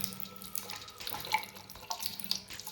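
Water runs and gurgles through a removable sink drain trap under low pressure, a close, steady trickling flow with small drips and splashes.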